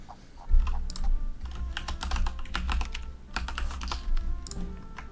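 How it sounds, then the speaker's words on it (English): Steady, rapid typing on a computer keyboard, close and fairly loud, with dense clattering keystrokes and brief pauses over a low background hum. "Who's typing?"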